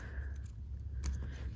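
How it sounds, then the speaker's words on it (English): Scissors snip thread on a Christmas flower ornament, a quiet close-up click or two against soft room background, with no talking. "I'm just going to use my scissors here"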